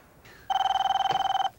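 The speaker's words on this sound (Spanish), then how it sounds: "¿Me estará llamando Arch?" A telephone rings once in a home: a short electronic ring of rapid pulsing tones lasting about a second, loud and close, after a faint brief tone.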